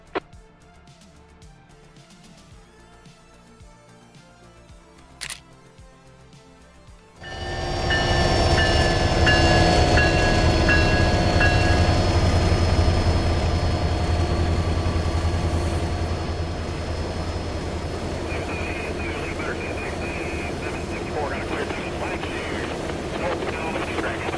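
A train riding the Conway Southern line in the Trainz simulator rumbles loudly after a quiet opening, with a steady rolling roar, high squealing tones and a fading drone that continues to the end.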